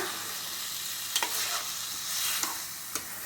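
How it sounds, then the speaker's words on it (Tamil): Raw plantain pieces frying in a pan with a steady, close sizzling hiss, and a few light spatula clinks as they are gently turned. "நல்லா இது மாதிரி வறுத்து வச்சு இதுலேயே ஃப்ரை பண்ணிக்கலாம் கொஞ்சம் கொஞ்சமாக"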